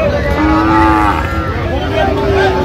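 A Sahiwal calf at a cattle market gives a long, loud, drawn-out moo followed by a second rising call, close by over a busy market background.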